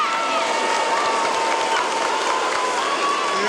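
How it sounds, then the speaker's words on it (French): A crowd applauding and cheering at a 1986 roller skating race in Rouen, a loud, continuous roar of clapping and voices, heard from within the stands without a break. "Et on peut les applaudir très fort."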